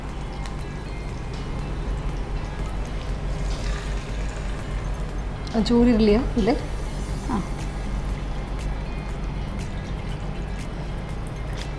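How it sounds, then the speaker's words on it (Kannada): Water being poured into a pot over a cup of semolina (sooji), a steady soft splashing hiss running throughout, with a short exchange of voices midway. "ಇದಕ್ಕೆ ಇವಾಗ ಈ ಕಪ್ಪಲ್ಲಿ 2 ಕಪ್ಸ್ ನೀರು ಆ್ಯಡ್ ಬೇಕು"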